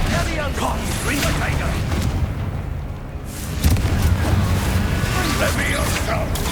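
Repeated Confringo fire-spell explosions in the Hogwarts Legacy video game on PS5, heavy booming blasts in a dense battle mix, with a louder burst near the middle and voices calling out spells.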